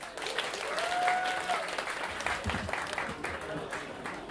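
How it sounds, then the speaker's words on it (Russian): Warm applause at a jazz festival concert as a trio leader is introduced, a dense crowd clapping loudly with some cheering voices mixed in and a brief whistle-like tone early on. "пожалуйста, буря аплодисментов Дмитрий Лукин"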